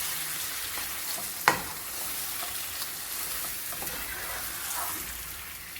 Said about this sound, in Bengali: সাত থেকে 8 মিনিট ভেজে নেব